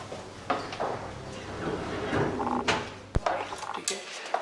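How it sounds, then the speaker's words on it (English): A bottom pull-out kitchen drawer on two tracks slides along its runners with a low rumbling glide and light rattles, then closes with one sharp knock before a few softer clicks. "So this one is a bottom pull out"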